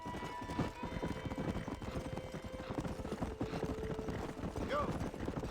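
Horse hooves clip-clop steadily at a trot in Red Dead Redemption 2, with an occasional whinny and a game music tone underneath, continuous through the moment.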